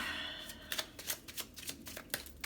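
Tarot cards are shuffled close by, giving a quiet run of rapid papery riffles and soft flicks with no talking.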